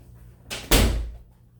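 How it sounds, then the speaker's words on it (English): A door is pushed shut with a single soft swoosh and a thudding close, followed by a quiet room. "Hang on, let me shut this door."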